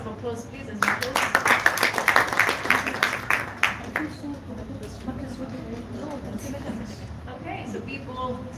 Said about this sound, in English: Another round of applause, please, as you close.